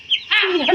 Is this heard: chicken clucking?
yes